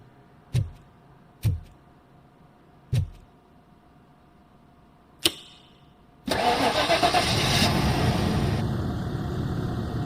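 Car engine in RoboCop: Rogue City, after its disconnected ignition coil is reconnected: four sharp clicks of a turning key spaced about a second apart, then the engine catches and settles into a loud, steady idle.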